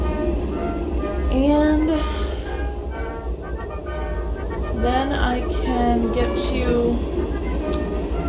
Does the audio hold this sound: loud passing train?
yes